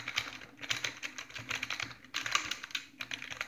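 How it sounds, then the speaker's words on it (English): Close, quiet clatter of typing on a computer keyboard at a home gaming setup, quick irregular keystrokes in steady bursts with a brief pause midway. "This is my keyboard."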